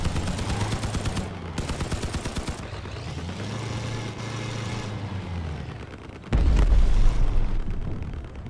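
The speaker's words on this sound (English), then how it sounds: "Fire that cannon, bro." A deep, heavy cannon blast in the video game Crossout booms out over a rumbling engine and scattered gunfire-like pops, with the loudest hit landing near the end.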